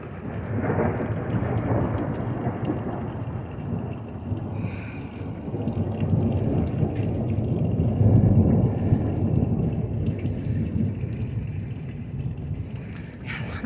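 Steady rain hisses throughout a thunderstorm while deep thunder rumbles and rolls underneath, building in strength partway through.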